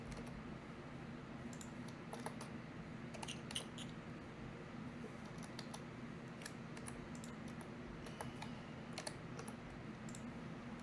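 Quiet typing on a computer keyboard, with sparse irregular key clicks in small clusters over a low steady background hum, fairly faint throughout.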